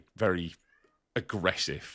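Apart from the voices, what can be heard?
cat meowing loudly in the background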